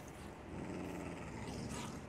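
A tamed dog growls in the Minecraft video game: a low, rough, continuous rumble, quiet and steady for a couple of seconds with no talking.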